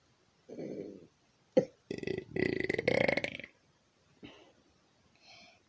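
A burp, then a short grunting sound and a longer, loud, rough stretch of belching or burp attempts, followed by faint breathy noises and soft vocal sounds at the end.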